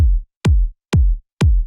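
Four heavy, punchy kick drum hits from a kick sample pack land at an even pace, each one a deep booming thump with a sharp click on top and a short low tail, loud and dry with no talking.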